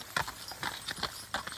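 Four male horses' hooves clip-clop in an irregular run of sharp knocks while the horses are led through a gate, close by with no talking.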